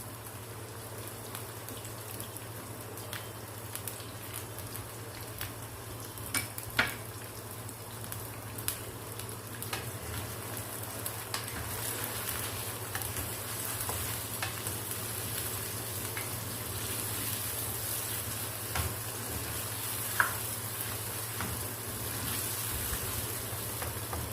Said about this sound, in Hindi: अरवी को फ्राई करते हुए इसमें हम हल्दी डाल देंगे।